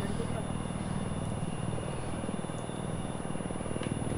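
Steady whirring rotor and engine drone of a helicopter in a Battlefield 4 Conquest match on the Golmud Railway map, continuous and fairly loud throughout, with someone talking over it.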